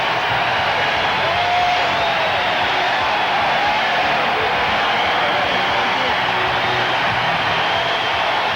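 A college basketball arena crowd roars in a steady, dense wall of cheering and shouting that holds loud throughout, with no single voice standing out.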